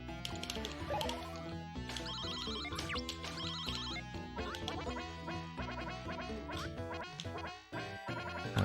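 Quack-like cartoon duck calls in the Sega Genesis game QuackShot Starring Donald Duck, repeated over busy bright chiptune music, with no speech.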